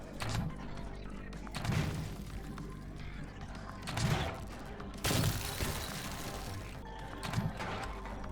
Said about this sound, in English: They're shooting at the ice blocks with the enemies inside them.